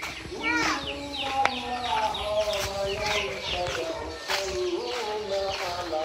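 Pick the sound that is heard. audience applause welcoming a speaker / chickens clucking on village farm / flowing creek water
chickens clucking on village farm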